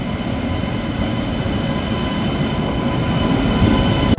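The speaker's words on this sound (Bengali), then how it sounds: "ট্রেন ছেড়ে ছাড়বে এখন, এই ছেড়ে দিল।" A passenger train pulls out of a station in Assam, a steady low rumble and rolling clatter of carriages that grows slightly stronger toward the end, with no voices.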